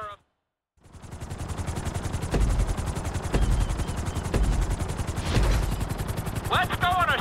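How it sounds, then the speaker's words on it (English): Helicopter flying through a city during a GTA V flight school lesson: a loud, steady, rapid rotor chop with engine whine, interrupted by a few heavier thumps, and a brief voice near the end. "we're gonna put you in a helicopter for this lesson"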